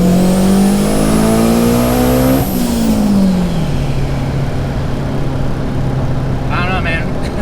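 A turbocharged car accelerates hard at full throttle from about 5,000 rpm, engine note loud and close, rising then dropping with a shift and settling into a steady drone, with a brief squeal near the end.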